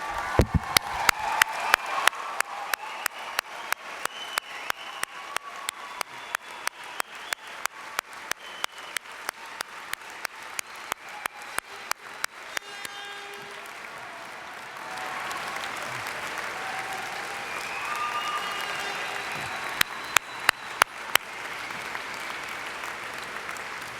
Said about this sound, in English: give a real round of applause for your graduates